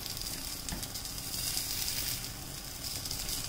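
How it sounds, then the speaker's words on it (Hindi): Cauliflower and pea snack frying in a pan, giving a steady, soft sizzle that stays even and close with no talking. "तो देखिए 1 मिनट हो गए हैं इसको सिकते हुए।"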